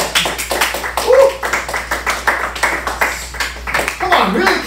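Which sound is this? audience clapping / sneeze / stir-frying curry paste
audience clapping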